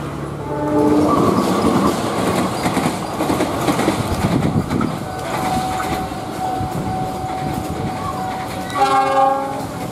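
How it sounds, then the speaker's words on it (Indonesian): A train passes on the rail line beside a narrow alley, heading toward Pondok Jati station. A loud, steady rumble of wagons runs throughout, with a clear horn blast at the start and another near the end. "Saya mendengar ada suara puwong klakson dari sebelah sini."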